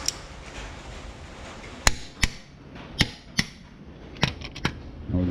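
A torque wrench tightens crankshaft rod bolts in a crisscross pattern to 60 foot-pounds, producing several sharp, distinct clicks spaced unevenly over a low background.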